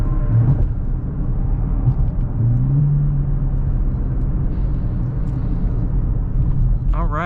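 A Nissan Z with an aftermarket exhaust cruises through downtown, its steady low rumble droning continuously from inside the cabin, with brief rises in engine note and a voice talking over it.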